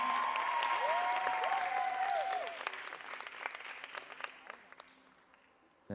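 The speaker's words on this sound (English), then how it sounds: "She's coming up onto the stage for even more applause." Audience applause greets a contestant stepping onto a stage at a Miss World pageant, steady and dense at first, then thinning and fading away, with a host's voice and sustained tones running over it.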